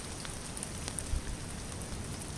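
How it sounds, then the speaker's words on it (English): Steady rain falls on an outdoor hunting spot near a bait pile in November, a soft even patter of drops with a few slightly louder taps, fairly faint and without any talk. "it's pretty wet, rainy, not good weather"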